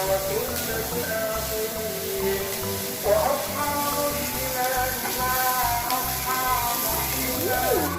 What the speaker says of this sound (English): Cook the onion until it's kind of soft and have the smell too, just like the garlic.